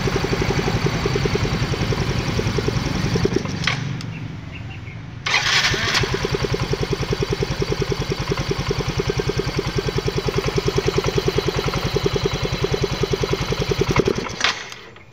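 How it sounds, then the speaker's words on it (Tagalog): Yamaha Mio i 125 fuel-injected scooter engine, up close and loud, running with a steady putter that drops away briefly, then fires up again and runs before cutting out at the end. "pag start mo, bigla-bigla na lang pong namamatay po yung engine po ng MIUI po"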